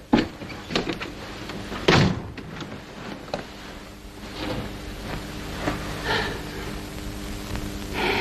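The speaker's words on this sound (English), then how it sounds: "Shut the door." A door in a 1941 wartime film is shut with a couple of firm thuds early on, followed by quieter shuffling and room noise.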